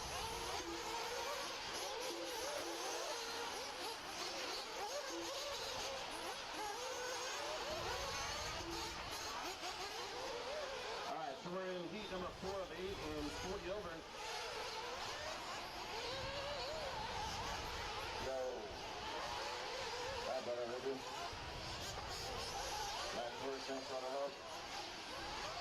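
Nitro RC buggies race around a dirt track at a qualifying event, their small engines buzzing and revving continuously as the pack loops by, with a race announcer talking over the steady whine.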